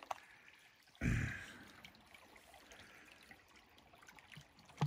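Clean water squirted through the filter strainer of a backpacking water bottle into another bottle, a sudden close spurt that fades into a soft, steady trickle.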